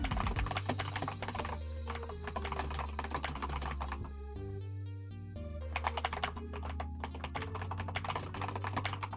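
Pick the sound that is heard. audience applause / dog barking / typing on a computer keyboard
typing on a computer keyboard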